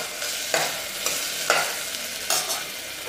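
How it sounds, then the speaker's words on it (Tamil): A spoon stirs washed moong dal in a hot cooking pan, with a continuous sizzle and four or five distinct scraping strokes at a steady rhythm. "அது 1 கால் கப் சேர்த்துட்டு இதை நல்லா சேர்த்துக்கலாம்."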